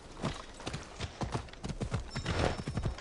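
Horse hooves clip-clop steadily at a trotting rhythm in Assassin's Creed Odyssey, close and moderately loud, with faint background ambience throughout.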